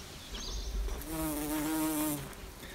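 Bumblebees buzz among a patch of dogbane in a bog. A close, faint, low droning hum passes the listener for about a second and a half amid soft outdoor background noise.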